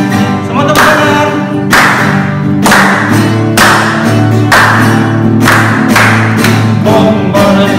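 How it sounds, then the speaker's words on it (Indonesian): Children at a Pentecostal children's worship service clap along to a praise song, in loud rhythmic bursts over amplified music with a steady beat. "Semua tepuk tangan."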